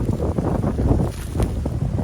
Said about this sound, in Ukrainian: У нас сьогодні такий вітруган, що просто капець